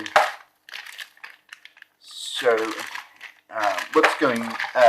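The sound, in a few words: taking board game pieces out of a container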